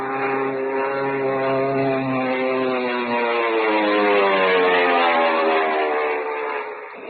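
Steady droning propeller airplane engine in a radio drama, a continuous loud hum with stacked harmonics that holds for several seconds alone with no talking.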